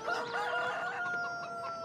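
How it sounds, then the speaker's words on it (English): Chickens on a Farming Simulator 2013 farm cluck and crow in a short burst of overlapping calls, moderately faint and with no talking. "Chickens."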